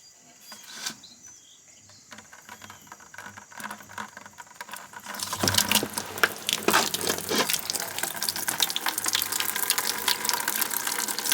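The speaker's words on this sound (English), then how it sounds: "I'm going to loosen them up and we'll let the water drain out" Water gushes and splatters steadily from a travel trailer's low point drains after a few seconds of quieter trickling and rattling, a loud continuous outdoor draining flow.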